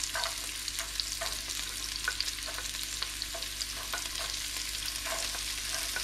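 Carrots are stir-fried in a hot pan for egg fried rice, giving a steady, close sizzle. Light scraping from the stirring recurs throughout.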